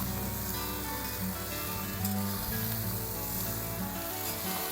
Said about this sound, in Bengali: এখন আমি ভালো করে নেড়ে চেড়ে কষিয়ে নেব